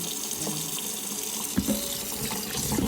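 Freshly harvested organic okra rinsed under a running tap, with a steady close hiss of flowing water and splashing in a sink throughout.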